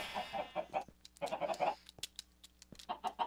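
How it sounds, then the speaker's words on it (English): Chickens cluck and squawk in a video game coop in short bursts of choppy calls with brief pauses between them, close and fairly loud, with no voices. "I got chickens restored back into my automatic chicken cooker."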